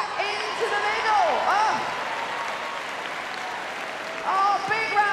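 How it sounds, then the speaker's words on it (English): Audience applause at the Crufts 2012 small-dog agility circular knockout, a steady roar of clapping from a large arena crowd running under a commentator's excited talk, swelling again near the end. "Oh, big round of applause."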